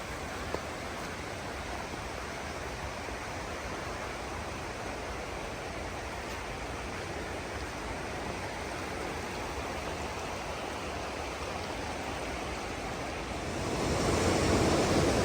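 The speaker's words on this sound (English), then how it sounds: "A nice little footbridge here that goes across this little stream." A small mountain stream near Big Creek, North Carolina rushes under a footbridge in a constant, even hiss of flowing water that swells a little louder at the end, with no voices.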